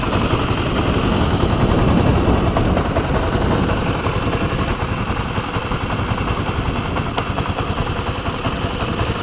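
A motorcycle engine runs steadily and close during a riding lesson, a dense rapid chatter with the throttle held low as the rider works the clutch friction zone.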